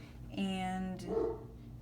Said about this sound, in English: oh sorry, my dog is really loud.